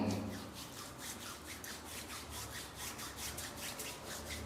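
A skin scrub is rubbed over skin with water, producing a soft, steady scratchy friction sound in repeated back-and-forth strokes, close and fairly quiet, with no talking.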